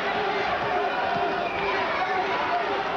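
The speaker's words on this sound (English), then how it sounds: "And the crowd gets with it." A boxing crowd roars steadily and loudly throughout the Honeyghan vs Blocker fight, a dense, continuous wall of cheering with no breaks.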